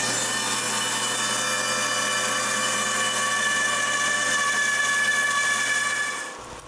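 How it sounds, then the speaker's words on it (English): Handsaw ripping a thin piece of wood in two lengthwise, a continuous steady rasp at close range that runs evenly for several seconds before stopping abruptly. "I want thinner letters, so I rip a piece in two."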